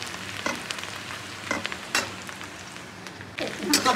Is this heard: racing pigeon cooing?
no